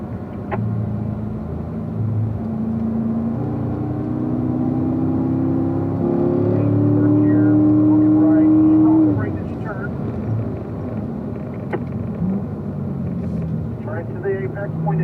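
A Corvette sports car drives on a race track at a performance driving school, its engine droning steadily and rising in pitch as it accelerates, then easing off, with someone speaking over it.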